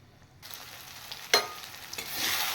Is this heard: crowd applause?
no